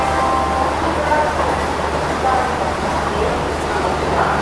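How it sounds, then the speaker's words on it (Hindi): Constant heavy rumble of the Varanasi Vande Bharat Express overtaking the Dehradun Shatabdi Express on an adjacent track, a steady, loud roar of rolling wheels and wind with no clear breaks, with someone talking faintly over it. "वाराणसी वंदे भारत एक्सप्रेस ओवरटेक कर रही है"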